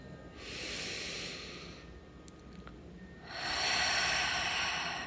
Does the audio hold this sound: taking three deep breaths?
yes